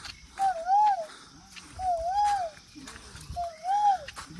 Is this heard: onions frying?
no